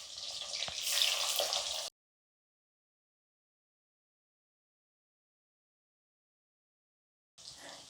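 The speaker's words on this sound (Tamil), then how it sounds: "இதில் கொஞ்சம் கொஞ்சமாக வெங்காயத்தை போட்டு நல்லா பொரிச்சு எடுத்துக்கலாம்." Onions frying in hot oil for chicken chukka give a brief, bright sizzle up close. Two short bursts of it are separated by a long silent gap.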